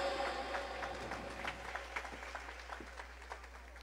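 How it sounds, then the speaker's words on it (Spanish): A church congregation claps along in a quick, uneven rhythm during a Catholic worship song, the hand claps faint and somewhat distant over a steady low hum. "Palmas al Señor. Más fuerte, mis hermanos."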